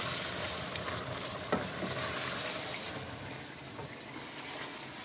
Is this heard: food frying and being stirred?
yes